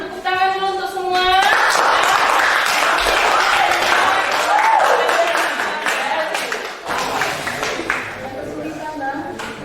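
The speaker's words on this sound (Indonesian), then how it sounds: "tepuk tangan dulu untuk semua" Classroom applause from a group of schoolchildren, a loud, dense burst of clapping that swells after a teacher speaks, holds for several seconds, then thins out with voices and scattered claps.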